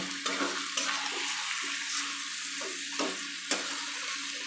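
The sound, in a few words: stir-frying chicken gizzard and liver with spices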